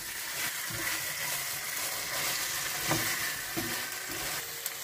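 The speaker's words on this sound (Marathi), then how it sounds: "आता घालुया आमी सॉल्ट आणि tomato hot and sweet sauce आणि 1 to 2 मिनिट्स आमी एका मातशें सौते करूया." Salt and hot and sweet tomato sauce sauté in a pan with fried masala, giving a dense, steady sizzle with occasional clicks of stirring against the pan, close and continuous with no voices.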